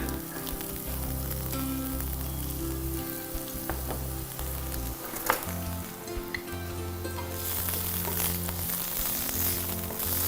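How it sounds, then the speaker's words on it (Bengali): Chopped onion sizzles steadily in hot oil in a pan, with occasional light knocks of a utensil and a low tonal hum throughout. "পেঁয়াজ কুচিটা দিয়ে দিচ্ছি।"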